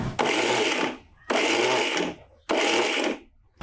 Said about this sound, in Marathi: मिक्सर असा थोडा बंद चालू करायचा